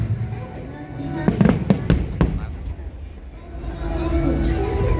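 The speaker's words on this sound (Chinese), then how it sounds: "你所看到除了有非常多的烟火现在正在释放之外" Fireworks launched at a National Day display on October 10, 2022, popping and crackling in a quick cluster of bursts over a constant crowd-and-traffic rumble, with a commentator's voice talking over it.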